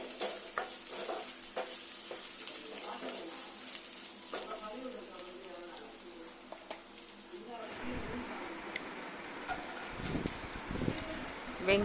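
Garlic and then onion sautéing in a pan for a Tamil lentil and greens kootu, a low steady sizzle with scraping stirs that grows busier and louder in the last few seconds.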